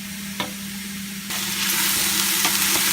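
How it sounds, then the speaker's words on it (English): Onions frying and sizzling in a pan while being stirred for soup, a steady loud sizzle with a spatula scrape early on, the frying growing brighter and fuller partway through. "We're going to cook these down until they are translucent and going soft."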